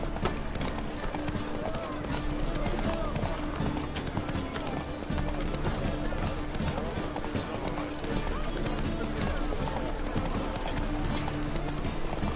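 Horse hooves gallop in a steady, fast clip-clop rhythm through The Witcher 3 video game, loud and continuous, with game music and ambient layers beneath and occasional voices.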